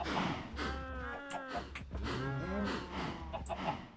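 Cows in a video game moo loudly and repeatedly, their drawn-out, wavering calls overlapping one another over a steady low hum.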